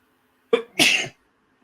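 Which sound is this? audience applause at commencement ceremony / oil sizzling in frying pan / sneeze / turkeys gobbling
sneeze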